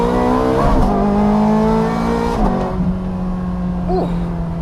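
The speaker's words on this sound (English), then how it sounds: "the best way I can possibly exemplify that is by just downshifting a couple times" A Ferrari 430 Scuderia engine hums loudly from inside the cabin, its pitch stepping down through a couple of downshifts, each marked by a quick throttle blip and rev flare.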